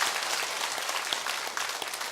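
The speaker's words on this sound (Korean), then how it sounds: "그리고 정말 하나님께 모든 영광 올려드리면 다 같이 박수하겠습니다." A church congregation claps together in praise at the close of a revival service, a dense, lively burst of many hands clapping at steady volume with no speech.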